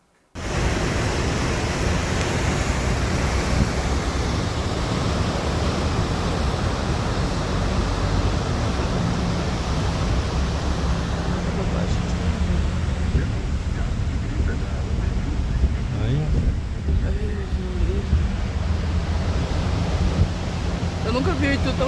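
Heavy rain and rushing water at the Itu dam in Rio Grande do Sul, a loud, dense, continuous roar of water that holds steady throughout with no breaks.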